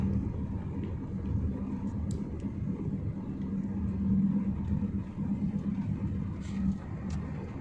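Steady low road rumble from a car cruising on an open highway between Riyadh and Khamis Mushait, continuous and smooth with no traffic, faint road and wind noise throughout.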